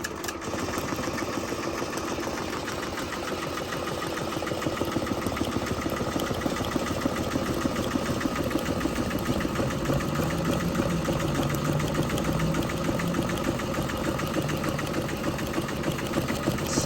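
A Tajima TMBP embroidery machine stitching 3D puff onto a five-panel structured hat at 400 stitches per minute, a loud, steady mechanical hum with a fast, even rhythmic chatter running continuously up close.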